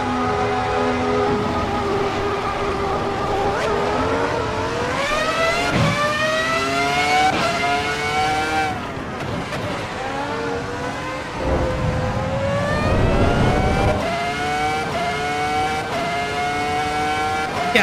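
V10 race car in Assetto Corsa Evo pulling away from first gear with traction control up, engine note climbing steadily through repeated upshifts, loud and close with a sustained high-pitched whine and no talk.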